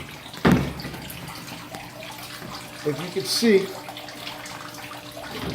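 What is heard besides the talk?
water draining through aquaponics bell siphon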